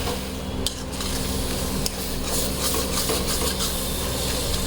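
Sour spinach with salt, turmeric and green chilli being stirred in a pan, giving a soft continuous sizzle with scraping and occasional light clinks of the spoon against the metal.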